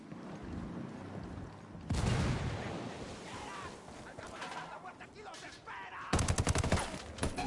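Gunfire and a grenade blast in the tactical shooter Ghost Recon Wildlands: a sudden loud burst, then rumbling combat noise, and a rapid crackling volley of automatic shots near the end.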